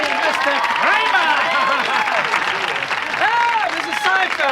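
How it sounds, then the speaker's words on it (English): A Seinfeld studio audience applauds and cheers, a dense wash of clapping that holds steady throughout, with voices in the crowd. "Do you like the audience applause?"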